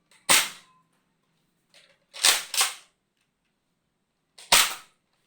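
An X-Shot Insanity Berzerko toy blaster fires foam darts in loud, sharp cracks: one shot, then a quick double, then a last shot, each with a short whooshing tail, close up in an otherwise quiet room.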